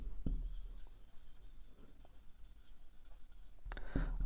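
Chalk or marker strokes scratch across a classroom board during a quadratic polynomial lesson, quiet, close taps and scrapes in short irregular bursts, with faint room hiss and no talking.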